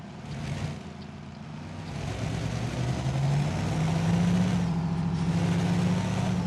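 A Kenworth W900A truck engine in Euro Truck Simulator 2 drones low and heavy, its rumbling pitch climbing steadily as it accelerates, loud and continuous without talk.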